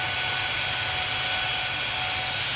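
Jet airliner engines in the Tower Simulator 3 airport game give a steady, loud broadband roar with a low rumble underneath, unbroken and with no voices.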